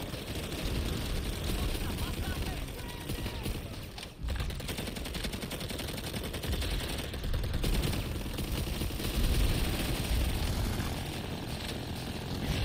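Rapid, dense gunfire from a gun in the shooter game Planetside 2, bursts packed together in a loud continuous clatter with engine drone underneath and talk over the top.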